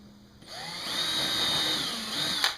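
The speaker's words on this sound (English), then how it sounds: "pre-drill the hole" A power drill whines steadily as it pre-drills a hole in new wood for a truck bed drawer system, its pitch wavering slightly, ending with a brief higher rattle as it finishes.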